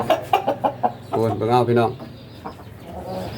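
Penned Saigon chickens cluck in a quick series of close, loud calls, then someone talks over them as softer clucking carries on.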